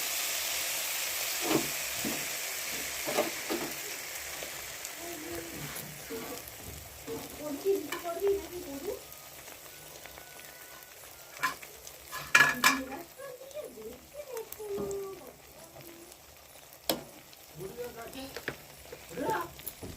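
Pitha rice cakes deep-fry in a wok of hot oil, a soft steady bubbling sizzle with occasional clattering of a utensil against the pan, while someone talks quietly over it.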